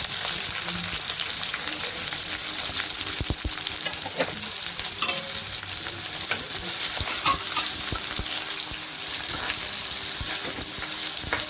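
Sliced onion fries in hot oil with bay leaf, cinnamon and a chili, giving a steady, loud broadband sizzle throughout, with occasional stirring scrapes and clicks on top.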